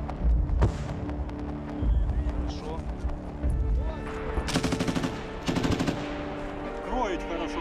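Bursts of automatic gunfire and single shots crack out repeatedly during infantry combat in Serebryansky, rapid volleys layered under shouting voices.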